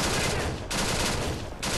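A powerful ballistic gun fires in Fallout 4 as a steady stream of loud, close, harsh shots, broken by two brief pauses in the firing.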